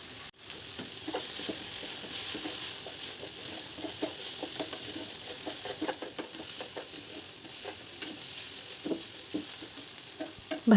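Spiny gourd (kakrol) slices fry in a covered pan, giving a soft, even sizzle with light pops and occasional stirring scrapes, fairly quiet and close, with no voices.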